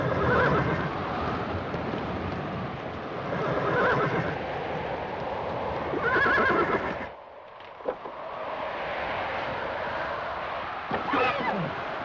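Several horses neigh and whinny in long, loud calls, with hooves clip-clopping beneath, a brief lull midway, then more whinnying and hoofbeats.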